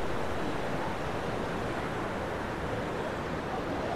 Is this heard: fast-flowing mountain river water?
yes